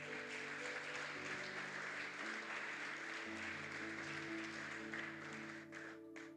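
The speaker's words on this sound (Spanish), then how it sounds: "Dale un aplauso al Señor" A church congregation claps together during a Spanish-language service, a soft, sustained wash of applause that sits over lingering organ or keyboard chords.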